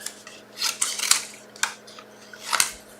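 Scissors snip through paper for a floral fun-fold card in a series of crisp, close cuts, about five or six quick clicks at an uneven pace in a quiet room.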